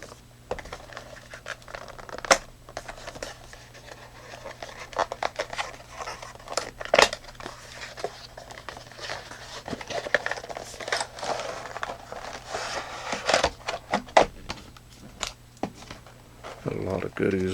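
Crinkling, tearing and tapping of cardboard and plastic packaging as a Fenix TK22UE flashlight kit box is opened and unpacked, close and irregular, with a person talking over the handling.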